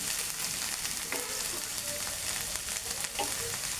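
Onion paste and spiced yogurt masala fry vigorously in a pan, giving a dense, continuous hiss and crackle with a few faint knocks of stirring.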